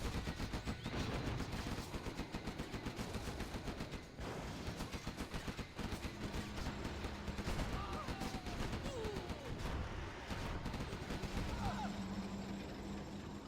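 Gatling tanks in Command & Conquer Generals Zero Hour fire in sustained rapid bursts, a dense rattling stream of gunfire that runs almost continuously under battle noise while a commentator talks over it.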